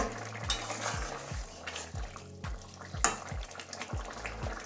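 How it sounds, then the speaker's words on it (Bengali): Bori lentil dumplings simmer in a fish curry with drumsticks, giving a steady bubbling sizzle with soft, regular low plops throughout. "এই যে বড়িগুলো বেশ ঝোলের সঙ্গে ফুটে গেছে।"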